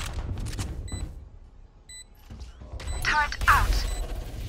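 Killjoy's turret deploys in Valorant with quick mechanical clicks and ratcheting whirs, then electronic beeps and chirps amid other game sounds, briefly under a voice.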